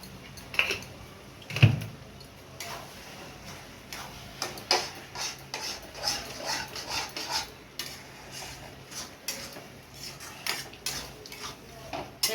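A spoon stirs rice flour into water in a bowl, giving light clinks and scraping taps against the dish in an irregular rhythm, close and fairly quiet.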